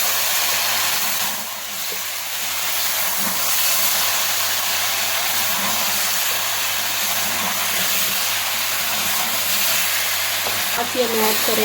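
Chicken karahi with turmeric and chili powder cooking in a pan, giving a steady broadband sizzle and hiss with occasional stirring scrapes, continuous and close.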